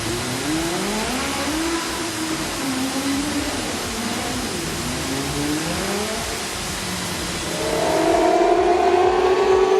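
Dirt-track race cars at Maryborough Speedway howl around the circuit, engine pitch rising and falling through the corners, with a louder, higher-revving car sweeping closer near the end.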